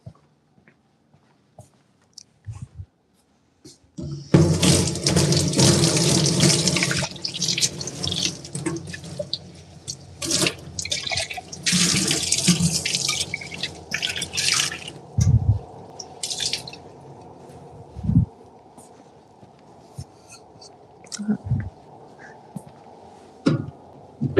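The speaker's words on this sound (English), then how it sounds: "So we are going to add some water to that." Tap water runs steadily into a container to thin a thick pottery glaze in a studio, a loud continuous gush with splashing that later settles into quieter trickles and a few drips and clunks.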